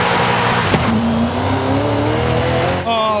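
A 6.2-liter V8 car engine in the racing game Forza Horizon 5 revs loudly and steadily, its pitch climbing and holding high, with a sharp click early on and a short dip before the roar returns.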